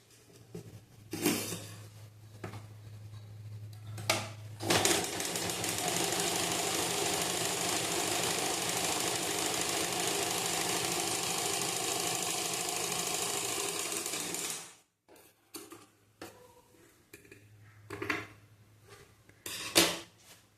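Sewing machine stitching a line of topstitching on blouse fabric: a steady, loud mechanical whirr runs for about ten seconds without a break, with short stop-start runs of stitching and clicks before and after.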